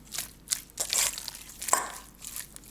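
Crunchy, crinkly stirring sounds come in short irregular bursts, like food being mixed and scraped in a bowl, close up with no talking.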